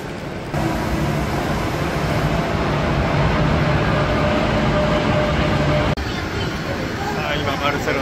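Interior of a moving passenger train from Valencia to Barcelona, a steady loud rumble of wheels and carriage noise that continues throughout, with a brief break near the end.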